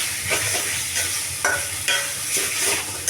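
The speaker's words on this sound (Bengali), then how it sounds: "এই যে মোচা বাটাটা দিয়ে দিলাম। এভাবে নাড়বো।" Banana flower paste stirred in a pan with dried chili and garlic that have already fried for some time, producing a loud, close sizzle with rhythmic scraping strokes roughly every half second, without speech.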